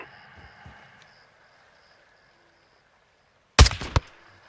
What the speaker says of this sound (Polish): Niezłe strzały